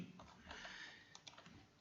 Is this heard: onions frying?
no